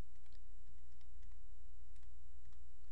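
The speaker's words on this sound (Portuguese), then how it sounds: "aqui eu vou digitar o comando de pingar, que é ping e o endereço da outra máquina" Several quick keystrokes on a computer keyboard as a ping command is typed at a command prompt, light irregular clicks close by over a low constant electrical hum.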